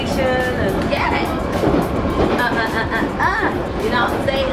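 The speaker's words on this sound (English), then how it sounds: "I'm on the train." A London Underground Metropolitan line train carries its passengers with a loud, constant rumble and rattle, and brief squeals rise over the steady roar.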